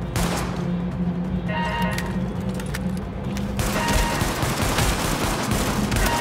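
Sustained automatic gunfire in the game The Division crackles in dense, overlapping volleys throughout, loud and continuous with scattered heavier thuds, with no speech over it.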